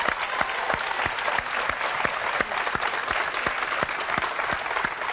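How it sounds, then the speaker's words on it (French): Studio audience on a French television talk show applauding, sustained clapping with crisp individual claps standing out in a steady rhythm, loud and continuous for the whole stretch. "Ah ben, on peut l'applaudir, enfin."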